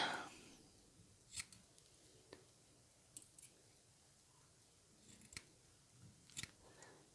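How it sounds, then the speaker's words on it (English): Scissors trim the cotton wick on a freshly built coil in a Savour MTL RTA, giving a few quiet, sharp snips spread out in a hushed room. A short burst of handling noise comes at the start. "I'm going to give this a little haircut."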